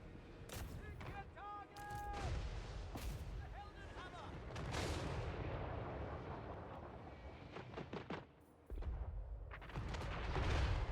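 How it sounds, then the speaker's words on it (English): Mortars fire in a Total War Warhammer III battle, several deep booming reports spread through a dense, continuous stretch of battlefield gunfire and noise, with a voice talking over parts of it. "Good news is the mortars are firing now."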